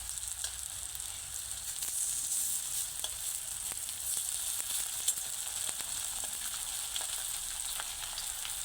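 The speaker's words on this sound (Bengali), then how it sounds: "বন্ধুরা ঠিক একই রকম ভাবেই কিন্তু আমি সবগুলো বড়া ভেজে নেব" Banana flower fritters frying in oil in a pan, a steady close sizzle and crackle running throughout with small pops scattered across it, no voices.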